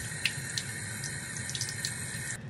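Water runs from a tap in a steady splashing stream as cleansing balm is rinsed off, with a few small splashes before it cuts off at the end.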